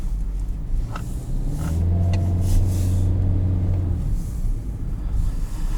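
A 2020 Hyundai Venue SEL climbs a hill under throttle, its engine droning with a low steady rumble that swells as revs build and holds for several seconds, heard from inside the cabin without talk.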